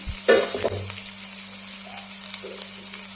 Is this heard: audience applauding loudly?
no